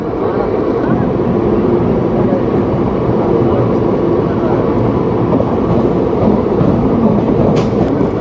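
A Black Diamond Express train runs at Shaktigarh railway station, giving a loud, steady rumble of wheels and carriages that carries on unbroken throughout, with a faint voice beneath the noise.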